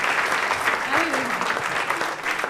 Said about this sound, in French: on va laisser partir l'équipe de Lilia avec des applaudissements